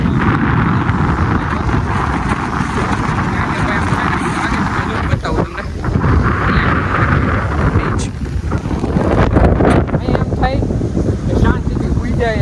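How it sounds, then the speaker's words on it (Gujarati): Cool sea wind blows hard across an island in the middle of the sea, buffeting the microphone with a loud, continuous rumble and gusty swells, mixed with waves, water splashes and voices talking nearby. "એવો મસ્ત પવન આવે પાછળ આવે છે ટાઢી ટાઢી દરિયાની"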